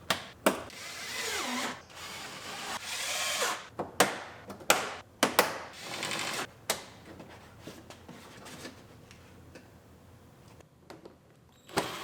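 A power drill drives screws into a vehicle's lower front wheel-well liner, a series of short whirring bursts with pauses between them, fairly close.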